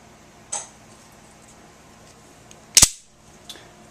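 Batwing Swinguard switchblade knives with dagger blades and flush button releases snapping open, a couple of sharp metallic clicks with one loud crack near the end, close up in a quiet room.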